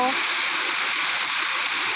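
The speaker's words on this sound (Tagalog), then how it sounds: "Malakas ang ulan." Heavy rain pours down outdoors at a neighborhood barbecue stall, a dense, steady hiss close by that fills the whole moment with no break.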